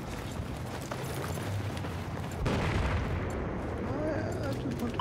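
A building collapses in the video game Battlefield 4 on the Siege of Shanghai map during a Conquest match: a loud, sudden surge of rumbling roar cuts in midway over a constant din of battle noise and holds steady to the end.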